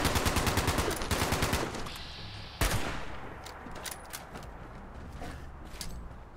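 Shotgun fire in Fallout 76: a rapid run of loud, sharp blasts in the first two seconds, a single heavy shot a little later, then fainter scattered gunfire trailing off.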